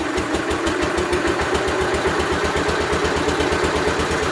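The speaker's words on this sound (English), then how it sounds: "Idle kind of hunts around a little bit" A 1988 Gravely 12G tractor engine with fuel issues idles with a steady rapid chugging pulse that hunts slightly in speed, loud and close, with no talking.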